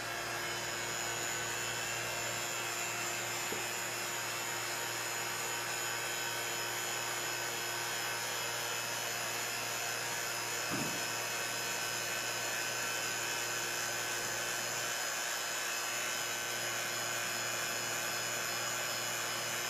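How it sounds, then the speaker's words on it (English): A steady, loud mechanical whir of a vacuum chamber pump runs unbroken throughout, droning at constant pitch with a faint low hum underneath. "Then we're gonna cover it with the vacuum chamber and then turn it on"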